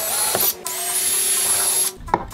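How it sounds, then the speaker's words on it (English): A power drill bores two small holes for mounting a Ring Doorbell Pro, a steady whining motor for about a second and a half, then a short spin-down and a brief second burst. "we're just gonna do little drill holes in two spots right here"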